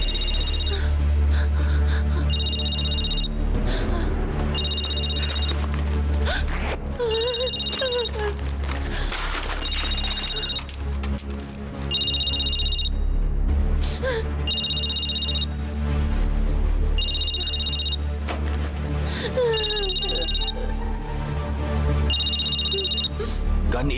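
An old-style telephone bell rings in repeated bursts of a few seconds each, steady and fairly loud, running under background music and dramatic sound from a television drama scene.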